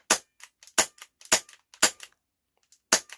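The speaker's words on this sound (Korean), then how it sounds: "지금이 격발이 되고 있는 상태입니다" Budget gas-powered airsoft handgun, single- and double-action, firing five sharp snappy shots at roughly half-second intervals, each followed by a faint mechanical click of the hammer, close and clear with no talking.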